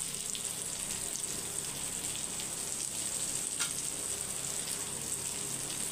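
Fish fillets frying in oil in a pan, a steady soft sizzle and crackle running throughout at close range with no talking.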